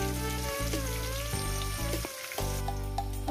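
Potato pieces sizzle in hot oil in a pan, a loud continuous crackle broken by a few short stirring pauses, with no talk.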